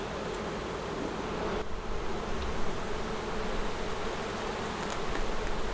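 Honeybees hum densely and continuously around an open backyard hive during an inspection in North Port, Florida, a close, steady buzzing with faint individual bees flitting near.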